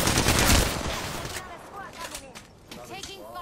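Video game gunfire, a loud burst of shots up front that fades into scattered fainter reports, with a player's voice talking over the later part.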